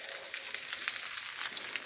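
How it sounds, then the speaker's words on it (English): Crab-encrusted halibut fillets fry in a pan with a steady, dense sizzle and crackle, moderately loud and close, with no one talking. "I'm going to put these on the pan, clean this pan out, and start frying those other ones."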